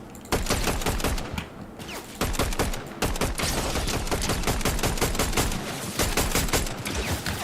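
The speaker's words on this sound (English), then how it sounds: "Oh, gunshot. Gunshot this way." Rapid gunfire in a video game, dense bursts of loud shots crackling one after another with brief pauses between volleys, close and sustained.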